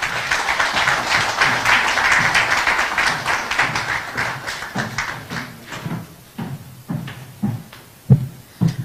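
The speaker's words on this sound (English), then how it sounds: "Keep your hands together and continue with a round of applause" Sustained applause from an audience at a Virgin Islands territorial address by Premier Natalio Wheatley, dense clapping at first that thins into scattered, separate claps toward the end.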